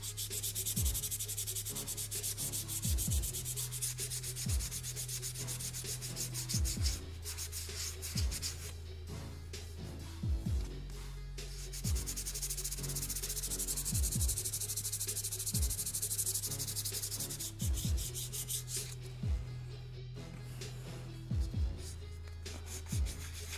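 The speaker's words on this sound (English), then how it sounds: "I do want to go over it with the 220 grit" Hand sanding with 220 grit sandpaper on a Nerf blaster part, a steady rasping rub that runs almost continuously, close and fairly loud, with repeated low thumps under it.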